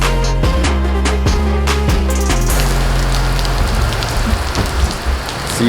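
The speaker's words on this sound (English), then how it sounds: "It actually does rain in California. Only once a year, but we do get rain every once in a while. And it's pouring right now." Heavy rain pours down in California, a dense, loud, continuous patter of drops striking a nearby surface, with a few low tonal thumps early on and no talking.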